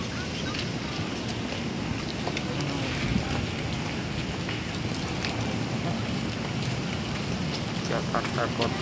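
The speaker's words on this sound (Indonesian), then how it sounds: "Hujan." Heavy rain falls steadily in Bogor, a dense, unbroken hiss that stays loud and close throughout with no voices.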